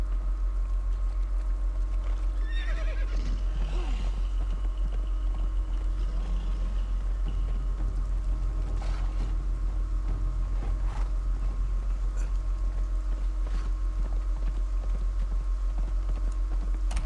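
Hooves clip-clop steadily on a horse in the video game Conan Exiles, set against a constant low game hum and ambient tones, with no neigh clearly standing out.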